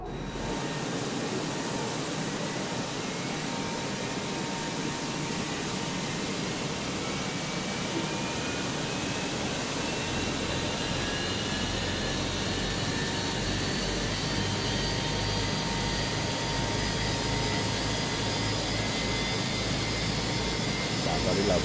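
Steady roar of both jet engines on a Fenix Airbus A320 in cruise in Microsoft Flight Simulator 2024, a constant broad whine with faint tonal hum that holds unchanged and fairly loud for the whole stretch.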